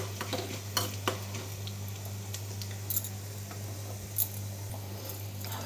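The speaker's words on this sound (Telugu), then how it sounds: "దోరగా వేపుకుందాము." Ingredients for a chintakaya (tamarind) chutney frying in hot oil in a kadai on a stove, a steady soft sizzle with scattered crackles and pops, close and alone, over a constant low electrical hum.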